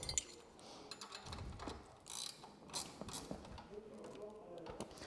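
A ratchet socket spanner tightening a shock bolt during a M2R Racing KX110F pit bike assembly, giving quick clicking ratchet bursts in short uneven strokes, close by.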